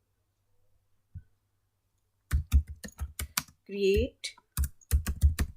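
Bursts of computer keyboard typing as a MySQL create-database command is entered, clicks coming in quick clusters, with a brief spoken word in the middle.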